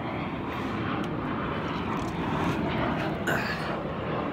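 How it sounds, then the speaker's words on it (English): A propeller airplane passes overhead, a steady broad engine drone that swells slightly toward the end, heard alone with no talking. "Got planes flying by."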